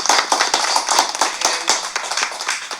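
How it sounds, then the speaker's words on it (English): A room full of people gives a round of applause in honour of service members, brisk loud clapping that begins at once and tapers off slightly toward the end. "Let's give them one big round of applause for their service."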